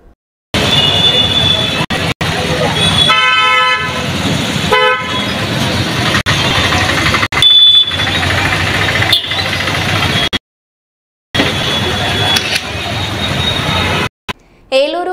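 Stalled road traffic on the Tekkali–Bannuvada road in the rain, car horns tooting repeatedly over idling engines, with voices talking over much of it and a couple of brief breaks.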